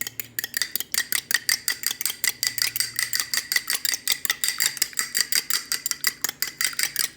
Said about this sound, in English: You're just gonna whisk that up.